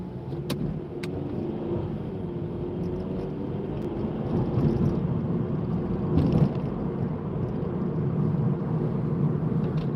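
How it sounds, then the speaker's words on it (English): Cars rev their engines on a night-time city street in St Paul: a steady engine rumble swells louder partway through, heard at moderate distance with no talking. "there's some cars revving some engines"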